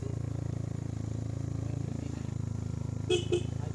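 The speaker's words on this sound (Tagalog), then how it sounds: "Lakas ng busina ko." Two short honks from a Yamaha Mio MXi scooter horn near the end, heard over a steady low engine rumble and faint voices, in Baguio City.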